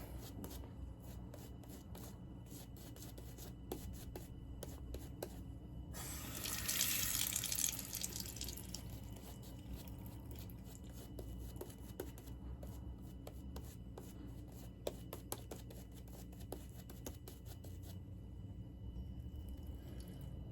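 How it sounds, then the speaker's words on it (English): Water running from a tap while a straight razor is rinsed, a faint steady trickle with a brief louder splashing burst, surrounded by small clicks and taps. "Add just a little more water."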